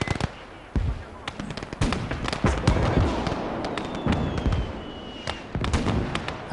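An artillery piece firing in the Russian front war game Operation Mars, a dense crackle of sharp distant blasts and rapid gunfire popping throughout the battle, fairly faint, with a thin whistling streak partway through.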